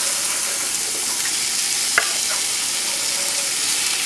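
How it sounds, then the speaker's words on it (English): Bacon sautéing with garlic and onion in a pan gives a steady, close sizzle, with a few sharp clicks and scrapes of stirring and no talk. "So we're going to saute this with the garlic and the onion."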